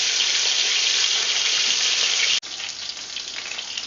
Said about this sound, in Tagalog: Be careful, it's going to be very hot. Fry it in a low heat.